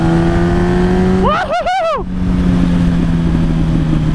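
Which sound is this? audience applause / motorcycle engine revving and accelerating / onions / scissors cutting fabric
motorcycle engine revving and accelerating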